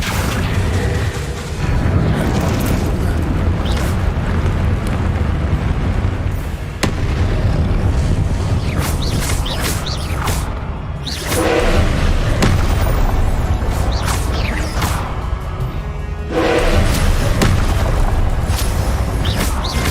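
Repeated Confringo fire-blast spells in the Hogwarts Legacy video game, loud booming explosions with crackling bursts layered over dense continuous rumble, several heavy hits clustering across the span with brief dips between, no speech.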